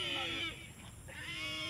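A very large pig squeals loudly and repeatedly while being lifted and carried by several people, with harsh shrieks broken by a brief lull in the middle.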